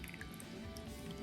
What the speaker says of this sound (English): So you're just gonna pour the sauce over them.